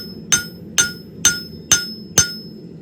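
Hammer blows forging a knife blade, drawing out the bevel toward the heel: five sharp, evenly spaced metallic strikes, each ringing briefly, close and loud with no talk.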